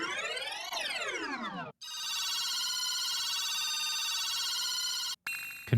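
Royalty-free charge sound effects: a bright sweeping tone that rises then falls, followed by a long sustained buzzing, shimmering hum that cuts off abruptly, then another brief burst.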